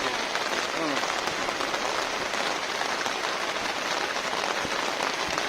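Rain falls steadily on a floating houseboat, a dense, even hiss of drops pattering on the surface, loud and unbroken throughout with no talk heard.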